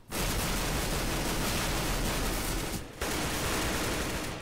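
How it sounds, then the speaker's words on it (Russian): Rapid machine gun fire in Counter-Strike on de_dust2, a dense unbroken roar of shots that stops briefly near the end and then resumes, loud and close. "Тут, кстати, классный пулемет у Трента. Скорострельность просто бешеная."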